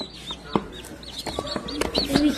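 Baby chickens clucking and peeping indoors, several short chirps and clucks in an irregular scatter at close range, with a faint voice briefly in the background.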